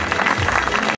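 Audience applause at a children's music competition event, a dense continuous wash of clapping that holds steady for about a second before cutting off abruptly.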